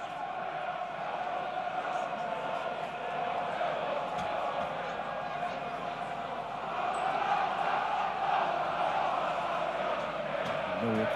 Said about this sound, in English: Millwall crowd certainly starting to warm into the afternoon.